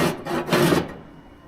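Short scraping and rasping strokes while trimming a custom headliner panel for a 1938 International pickup, three quick rough rubs close to the microphone that then fade.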